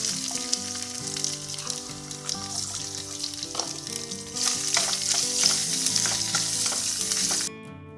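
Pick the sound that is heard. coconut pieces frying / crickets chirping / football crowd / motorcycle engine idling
coconut pieces frying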